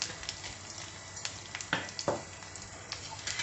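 Mustard seeds crackle and sizzle in hot oil in a pan for a tempering, a steady close frying hiss broken by sharp pops and bursts, with no talking.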